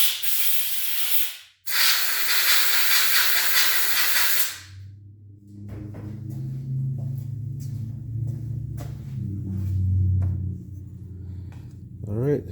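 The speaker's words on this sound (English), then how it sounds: "I'm going to blow the bowl dry and the sediment bowl." Compressed air blasts loudly across a Honda GX240 carburetor bowl and sediment bowl in two long hissing bursts split by a brief gap, followed by quieter handling noises and a voice.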